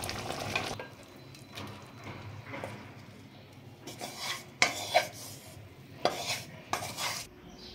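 Thick prawn malai curry in coconut gravy scraped and poured from a pot onto rice, with soft wet scrapes and several sharp clinks of a metal spoon against the pot, close up and with no talking.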